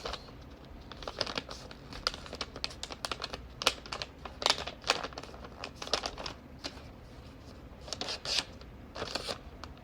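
A square of origami paper is folded in half, giving soft crinkling and rustling with quick creasing taps and scrapes, faint and close, with no talking.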